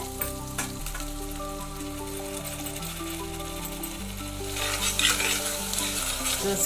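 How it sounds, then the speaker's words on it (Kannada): Ground masala paste fries in a pan for egg donne biryani, a steady loud sizzle broken by repeated scraping and clinking of a spoon as it is stirred, with no talk. "ವಾಸನೆ ಹೋಗೋರಿಗೆ ಮೀಡಿಯಮ್ ಉರಿಲಿ 2 ನಿಮಿಷ ಫ್ರೈ ಮಾಡ್ಕೋಬೇಕು"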